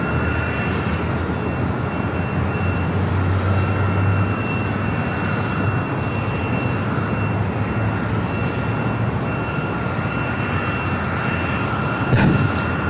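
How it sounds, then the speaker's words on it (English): A China Southern Airlines Boeing 777-300ER arriving from Guangzhou lands at LAX, a steady loud jet engine roar with a constant whine holding throughout, ending in a brief sharp burst. "up next is that 777-300ER coming up from Guangzhou, China Southern Airlines, flight 327"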